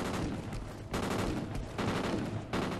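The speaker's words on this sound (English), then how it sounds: "who is still shooting like a motherfucker?" Dense, loud gunfire from the video game Call of Duty: Ghosts, with continuous automatic bursts that swell in waves and leave no gaps throughout.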